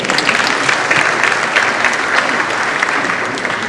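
Audience applause after a speech at Mount Kenya University: a dense, loud crowd clapping that sustains evenly throughout, with faint voices mixed in.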